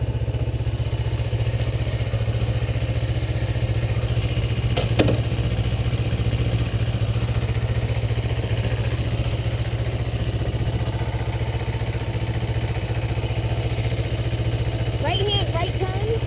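A Kawasaki Ninja motorcycle engine runs steadily at a low, even throb for the whole stretch, with voices heard faintly beneath it.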